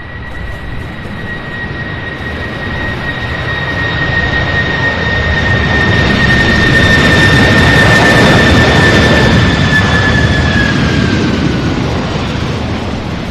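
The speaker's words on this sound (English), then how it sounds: "Magnificent aircraft here." A jet airliner's engines roar at Louisville International Airport, a loud broadband rumble with a steady high whine that swells and peaks midway, then slowly eases as the aircraft passes nearby.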